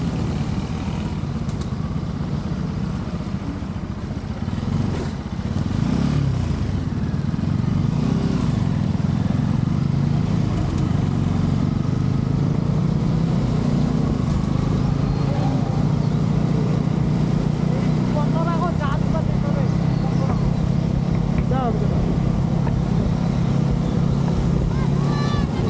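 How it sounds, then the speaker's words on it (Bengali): A car engine runs steadily throughout with a loud, continuous low rumble, while people talk over it from inside the vehicle. "আমি গাড়ির ইঞ্জিনে আওয়াজ শুনতে পাচ্ছি"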